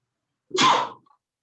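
A single sharp sneeze bursts out during a chemistry exam review session, a brief loud explosive burst lasting about half a second, close by, with no talking around it.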